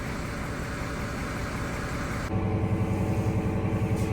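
A Fendt 942 tractor's diesel engine idles steadily while warming up after its fuel froze, then shifts partway through to a deeper, louder rumble.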